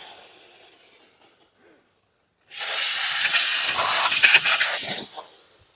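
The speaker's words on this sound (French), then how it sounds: "Vapeur humide." A steam cleaner jets wet steam onto a car's pedals, a loud, broad hiss that starts abruptly after near silence, holds steady for about two and a half seconds, then tails off.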